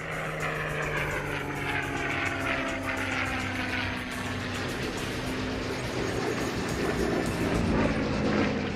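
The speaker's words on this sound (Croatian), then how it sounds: "lovački su zrakoplovi hitali presresti napadače" Propeller engines of WWII fighter aircraft roar continuously and loudly, a dense steady drone with a low hum and shifting tones, rising in intensity as planes scramble to intercept attackers.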